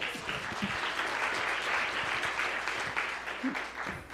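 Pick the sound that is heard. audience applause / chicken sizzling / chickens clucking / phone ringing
audience applause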